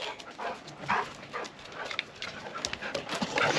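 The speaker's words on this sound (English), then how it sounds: "I'm gonna go let the dogs out." Excited dogs are greeted on being let out of a house, with yips and whimpering bursts scattered through the clip, some louder near ones, over a rustling background.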